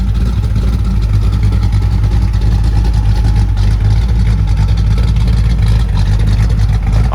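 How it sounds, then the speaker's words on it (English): Exhaust of a restomod 1967 Chevrolet Nova with a 355 V8 and automatic overdrive, a loud, steady low burble cruising on the highway, continuous and close with no voices. "Awesome drivetrain, awesome sounding exhaust."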